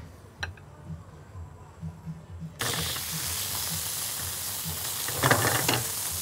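Veal tenderloin drops into hot olive oil in a pan and starts a loud, steady sizzle that follows quieter clinks and handling, the frying hiss rising again near the end.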